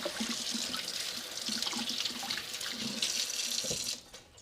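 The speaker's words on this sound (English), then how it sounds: "I forgot to leave my water on to get it warm." Water runs steadily from a kitchen faucet into a sink, a soft continuous splashing rush heard nearby for several seconds before cutting off near the end.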